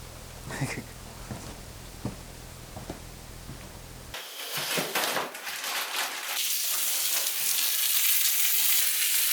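Steady broadband sizzling of bacon frying in a pan at a cabin camp, growing louder and denser after a few seconds, with a voice talking faintly early on.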